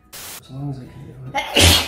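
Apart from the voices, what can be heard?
sneeze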